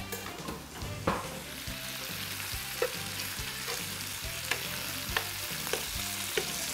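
Bacon sizzling loudly in a pan, a dense continuous crackle and hiss close up, punctuated by sharp clicks and scrapes of a utensil stirring at irregular intervals.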